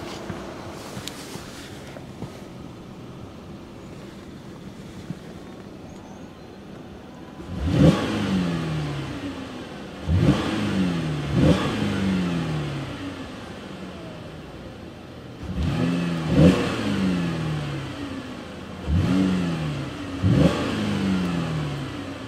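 A 3.6-litre V6 engine in a 2014 Chevrolet Impala LTZ idles quietly, then is revved in several short, throaty bursts up to a rev limiter around 3,000 RPM, each rising and falling back to idle, heard up close with no talking.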